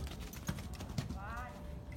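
A gentle pony walking, hooves giving a few soft clip-clops on the ground, with a person talking encouragingly over them.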